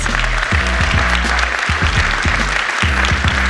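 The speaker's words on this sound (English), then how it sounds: "can we give one massive round of applause to our panelists?" A crowd applauds the panelists at a panel discussion, continuous clapping that stays loud and steady throughout, with heavy low thumps underneath.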